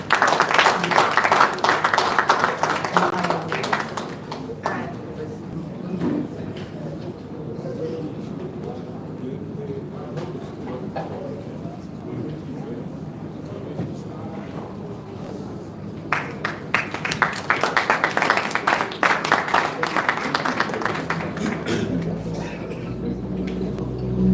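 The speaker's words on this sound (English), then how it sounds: "Please, a good round of applause." Audience applause at a courageous citizens award ceremony, broadband clapping swelling at the start and again near the end, with quieter murmuring and talk in between.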